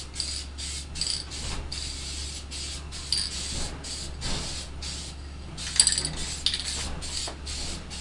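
A spray can hisses in repeated short bursts while a recycled pallet wood ladder gets a matte finish, a quiet rhythmic pattern of sprays with small clicks between them and no talking.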